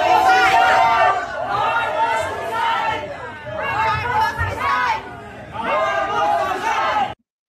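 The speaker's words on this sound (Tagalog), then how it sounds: "tignan niyo yung mga sigawan nila." A large crowd at a rally shouts together in loud, surging waves of massed voices that swell and fall several times before cutting off abruptly.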